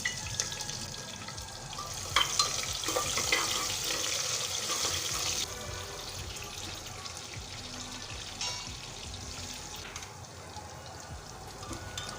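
Chopped onion, green chilli and curry leaves fry in oil in a pan for tomato bath, giving a steady close sizzle that is louder early on and then settles into a softer hiss.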